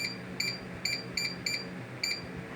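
A Zelancio Titan-X1 air fryer beeps six times in short, evenly spaced electronic tones, bright and clear against faint room noise, with no talking.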